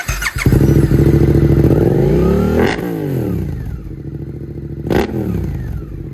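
A Suzuki GSX-8S motorcycle with an aftermarket Arrow exhaust revs loudly up close with a deep, throaty exhaust rumble, rising and dropping through a couple of sharp throttle blips.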